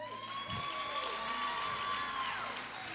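Audience applause with scattered cheering at a prophetic church service, a steady wash of clapping filling the room beneath a sustained tone.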